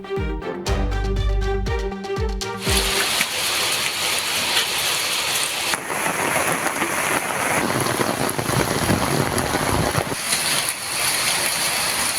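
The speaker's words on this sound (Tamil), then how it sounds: "கும்பகோணம் சுற்றுவட்டார பகுதிகளில் நேற்றிரவு 1 மணி நேரத்திற்கும் மேலாக பரவலாக கனமழை பெய்தது." Heavy rain pours over the Kumbakonam area at night, a loud, dense and steady hiss of drops hitting the ground that runs continuously for about ten seconds after a brief burst of music at the start.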